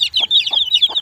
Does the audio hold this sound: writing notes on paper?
no